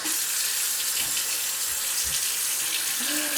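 Tap water pours steadily into a sink while hair is being wet before a home haircut, a continuous close hiss with faint splashes and no speech.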